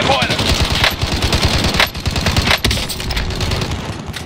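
Sustained machine gun fire in the video game Call of Duty Warzone, loud and close, rattling in rapid bursts with brief pauses throughout.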